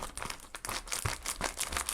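Crinkly paper squishy shaped as an iPhone case, squeezed repeatedly by hand, giving close, loud crumpling and crackling bursts in an irregular rhythm with no voices.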